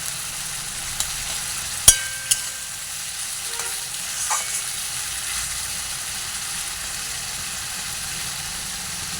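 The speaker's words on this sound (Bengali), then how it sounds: "দিয়ে বেশ খানিকক্ষণ এটা কষাবো" Stone-ground spice paste frying in a pan, a low steady sizzle in the background with a couple of sharp metallic clinks near the start and soft stirring sounds, no talking.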